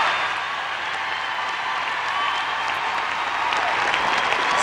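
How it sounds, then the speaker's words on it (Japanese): Arena crowd at a figure skating competition gives a standing ovation after a men's long program, dense sustained applause with cheering filling the whole stretch, loud and steady throughout. "素晴らしい演技をスタンディングオベーションで称えます。"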